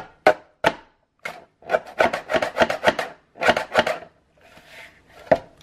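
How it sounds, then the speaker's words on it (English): A deckled edge paper trimmer slicing along the edge of paper for booklet inserts, producing a series of close, crisp crunching cuts in a quick rhythm, with brief pauses between them. "I'm gonna use this deckled edge paper trimmer here."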